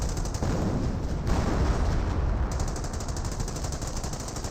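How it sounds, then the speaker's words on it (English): A 20 cm rocket barrage in the Company of Heroes strategy game, heard as continuous rumbling explosions and rapid battle fire in a dense, loud wash lasting several seconds. "And now got the 20 centimeter rocket barrage. Direct hit there, wipes out the gun."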